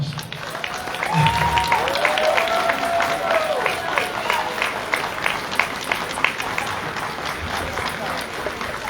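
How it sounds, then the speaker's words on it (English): Gala audience applauding a young lady at an awards event, a steady crowd of clapping hands with scattered cheers, joined early by a brief low thump and some voices in the room. "Everybody give this young lady a round of applause."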